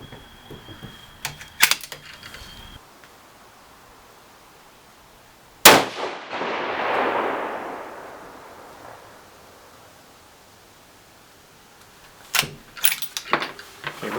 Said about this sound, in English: we'll go ahead and shoot